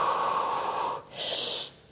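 A slow, audible exhale during a pilates back exercise, a soft breathy rush of air that fades out, with a brief brighter hiss of breath near the end.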